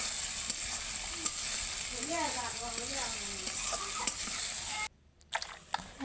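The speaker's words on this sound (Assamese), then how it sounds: "মই এতিয়া মাংস বহাই দিব আছোঁ" Meat sizzles steadily in a hot pan with salt added, a dense, even frying hiss that holds for several seconds before cutting out abruptly near the end, with a faint voice briefly audible.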